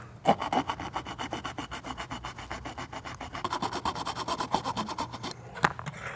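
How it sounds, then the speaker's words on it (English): A small hand saw blade rasps back and forth through the corners of EVA foam, a close, steady run of rapid scraping strokes with a brief pause near the end. "I've just got this little saw blade right here, and I'll use that to hand cut the corners to remove these last bits here."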